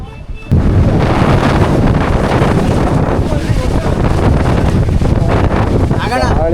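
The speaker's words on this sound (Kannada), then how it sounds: "ಗಾಳಿ ಬೀಸ್ತಾ ಉಂಟು" Strong wind roars over the microphone on Baba Budangiri hill near Chikkamagaluru in the monsoon, a loud, continuous buffeting that sets in abruptly after a brief quiet start and carries on alone without any talking.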